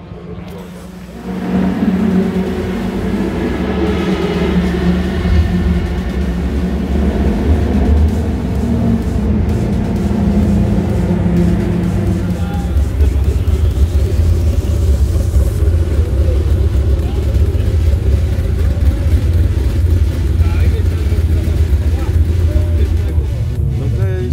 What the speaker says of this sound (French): Les voitures commencent à y aller une par une.